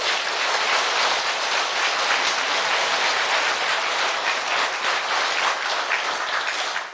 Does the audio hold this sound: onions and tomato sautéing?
no